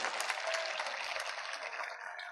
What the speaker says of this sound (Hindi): एक बार जरा वही तालियां बजा दीजिए ताकि मुझे लगे कि हाँ आप सुनना चाहते हैं